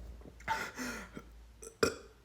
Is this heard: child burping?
yes